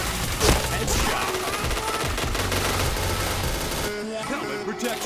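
Rapid bursts of automatic gunfire crackle in a shooter video game, loud and dense, with several volleys and a brief quieter gap near the end.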